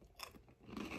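Crunchy bite into a fried devil crab, crab meat in a fried crust, with faint, close chewing and crunching that rises toward the end and no speech.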